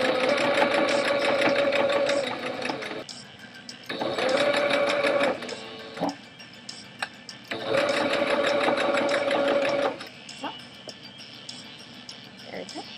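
A sewing machine stitches a purse seam in three steady whirring bursts of a couple of seconds each, separated by pauses with small clicks and handling noises, close and clear.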